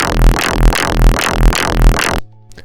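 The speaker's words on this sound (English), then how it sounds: "by duplicating the saturator, you're adding a lot more distortion to it" Distorted bass growl from an electronic bass music patch run through a tripled saturator, five loud gritty rhythmic wobbles in a steady pattern, alone, ending in a sudden cut to near silence.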